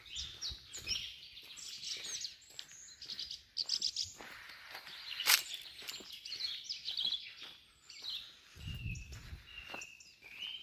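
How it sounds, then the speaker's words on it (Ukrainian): Birds chirp and sing outdoors in bright, varied phrases with scattered tweets. A soft low thump or rustle comes near the end. "Співай, співай пташку."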